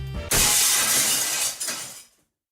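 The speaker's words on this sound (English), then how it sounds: "The chandelier crashed to the floor in all the force, making a tremendous noise." A chandelier in the video game Limbus Company smashes onto the floor in a loud, sustained burst of shattering glass that rings out for about two seconds before cutting to silence.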